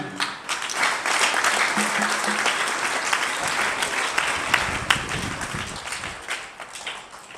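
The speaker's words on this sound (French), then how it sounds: "Applaudissons nous-mêmes." A congregation applauds inside a new church: dense, sustained clapping from a large crowd, with faint voices and cheers mixed in, running steadily before tapering off.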